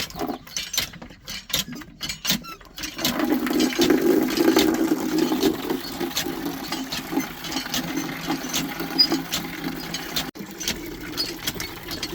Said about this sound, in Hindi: और चलेंगे नलके की तरफ, इसे भर लेंगे